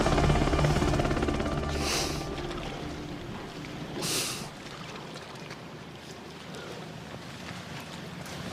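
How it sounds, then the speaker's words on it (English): A Sea King search and rescue helicopter flying, heard as a steady, loud, wind-blown rotor and engine roar with two brief swells of louder hiss, and no voices. "a Sea King rescued me."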